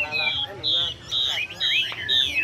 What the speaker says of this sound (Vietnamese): Chim mi gọi này.